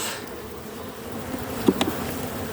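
Honey bees buzz steadily throughout a hive inspection of colonies hit by brood disease in a rainy climate. The low, continuous drone is moderately close, with a couple of louder swells near the end and no talking.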